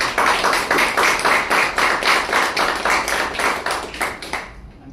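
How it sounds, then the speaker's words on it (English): Applause from an audience at a book donation event, a steady rhythmic clapping that fills the whole stretch, loud and close, and tapers off at the end. "Can give him a big round of applause."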